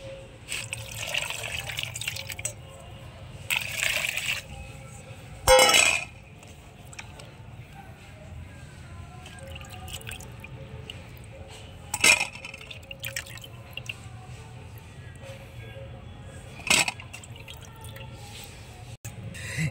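Long black aubergines are rinsed under a running kitchen tap, with steady water noise broken by a few sharper splashes and drips at irregular intervals.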